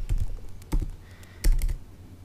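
Computer keys are struck in a few quick bursts, close and crisp, with short pauses between clusters of clicks and a faint hum in the background.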